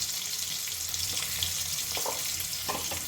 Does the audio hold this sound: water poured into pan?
yes